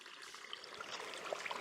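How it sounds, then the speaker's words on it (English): Cold spring water gushing out of the ground at a dispersed camping spot, a steady close hiss and gurgle of flowing water with small bubbling splashes, continuous and fairly soft throughout. "That's a lot of water coming out of this spring."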